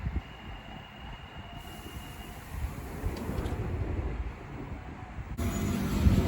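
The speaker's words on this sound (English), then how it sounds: "Now departing is the 12:51 London Underground Central Line service from Ealing Broadway" London Underground Central Line train departing Ealing Broadway station, a low rumbling roll of wheels on rails that builds steadily, with faint squeals and clatter, heard from the platform without talk.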